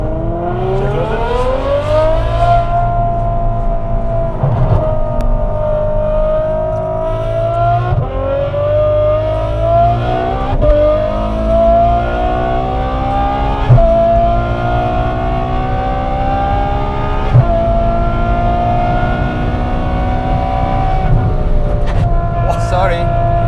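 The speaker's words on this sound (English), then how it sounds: "It's so loud driving away from here." Ferrari F12 V12 engine driving loudly from the cabin while leaving the Nürburgring area, a steady roar rising in pitch through several gear changes with brief dips between shifts; people talk over it at times.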